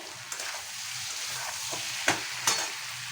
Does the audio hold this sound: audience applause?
no